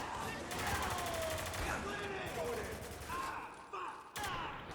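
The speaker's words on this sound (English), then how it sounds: "One in the open! Take the shot!" Gunfire rattles through a Spec Ops: The Line firefight, continuous bursts and shots layered under shouted squad talk, fairly dense but moderately quiet overall.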